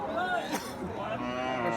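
A Friesian bull at the Ambari cattle market lets out a short, low, drawn-out moo, close and fairly quiet against faint background murmur.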